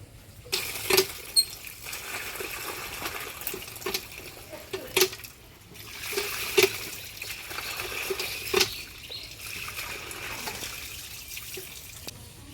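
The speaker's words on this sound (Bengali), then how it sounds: "এবার এটাকে আমি একটু জলে ধুয়ে নেবো ভালো করে" Cheng fish being rubbed and rinsed by hand in water, with soft splashing, dripping and patter in a sink, several sharper splashes standing out, close and moderately quiet, no talking.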